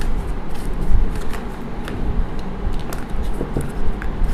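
Tarot cards shuffled by hand at close range, a continuous papery riffling and flicking with small sharp snaps, no speech heard.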